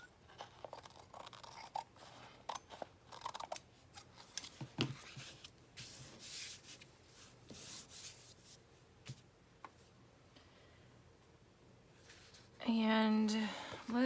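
Scissors snip and rub through the top edge of a paper journal cover made from a vintage sewing pattern, a run of close, crisp cutting and rustling strokes, with a short burst of louder noise near the end.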